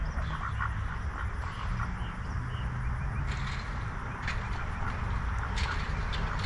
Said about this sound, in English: Got the ducks here, which they ain't helping us at all